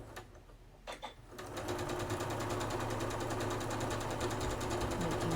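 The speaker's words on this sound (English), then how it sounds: "and I'm just going to start sewing." A sewing machine stitches quilt block pieces made from charm packs, starting after a couple of soft handling sounds and then running in a steady, close, rapid whir.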